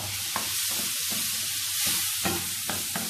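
Mango stirred into a crocodile chutney in a pan gives a continuous loud sizzle with a soft scraping stir and a few brief knocks of the utensil, close by with no talking.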